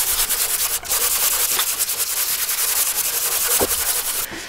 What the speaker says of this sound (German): müsst ihr den Tisch ganz leicht anschleifen, also mit einem Schleifpapier, mit einem feinen Schleifpapier